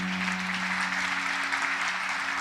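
Steady applause from a church congregation fills the room, even and sustained, with no voices rising above the clapping.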